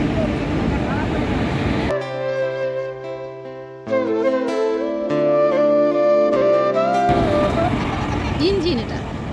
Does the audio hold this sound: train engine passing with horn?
yes